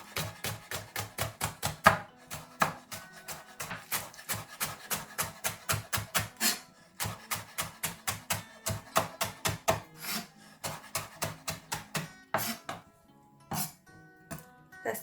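Green onion thinly sliced with a knife on a board, rapid rhythmic close chops in steady runs with short pauses between bursts.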